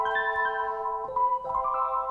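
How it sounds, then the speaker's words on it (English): An ambient trap melody built in FL Studio 20 plays without a halftime effect, its soft sustained synth tones stepping up through a few quiet note changes, alone and without talk. "without halftime, it actually sounds like this"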